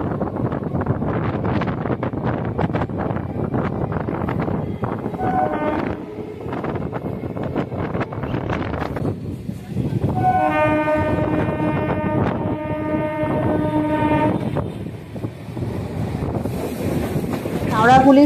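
A local train running between Howrah and Bandel, with rumbling wheel and carriage noise, clattering bursts and wind buffeting, and a loud horn-like tonal blast partway through.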